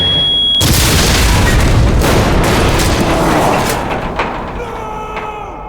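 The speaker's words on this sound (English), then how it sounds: "Murdoch violently threw the booby-trapped briefcase out of the window towards the imposing gate, driving towards it until" A booby-trapped briefcase explodes at an imposing gate as a sound effect: one sudden, loud broadband blast that fills the frame, then a long rumbling decay that fades over several seconds, with no voices.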